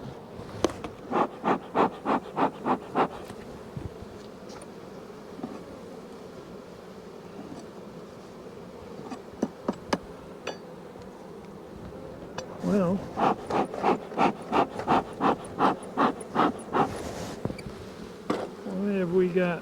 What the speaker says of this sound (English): And still we got a bunch of bees.